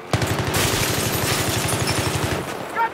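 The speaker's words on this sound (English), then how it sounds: "Look out, hostile machine gunner, over." Sustained automatic fire from a machine gun in a Battlefield 3 Strike at Karkand match on Xbox 360, a rapid steady stream of loud close bursts running almost the whole clip with a brief dip near the end.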